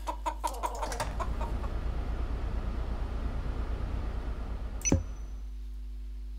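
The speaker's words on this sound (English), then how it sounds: "these chickens are all" Chickens cluck in the farming video game Farming World, a few short clucks at the start giving way to a steady farmyard murmur under a constant low hum, with one sharp click near the end.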